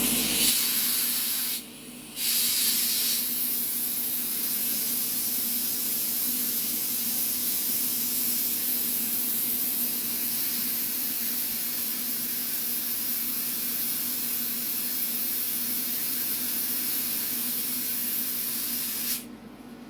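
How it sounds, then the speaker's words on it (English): An air compressor vents built-up pressure in a steady, loud broadband hiss that runs nearly twenty seconds, with a brief dip near the start before the release resumes and cuts off at the end. "it's because the pressure is so high right now in my air compressor. Hold on, I gotta do a little bit of I gotta release some of the air pressure."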